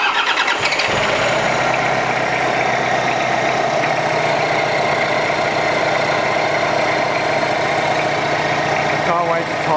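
A Toyota Hilux Surf with a full custom 3-inch exhaust and cut-out valve cranks and fires up, then settles into a loud, steady idle with a deep droning note close by, and the engine cuts off near the end.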